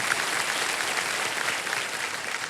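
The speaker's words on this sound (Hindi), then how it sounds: "बट एक बार जोरदार तालियां हो जाए बच्चन साहब के लिए" A studio audience at the quiz show Kaun Banega Crorepati applauds Amitabh Bachchan, with dense, steady clapping filling the whole stretch at full volume.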